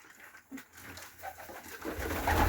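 Soft pigeon cooing, low and murmuring, rising in loudness toward the end alongside rustling and faint bird activity nearby.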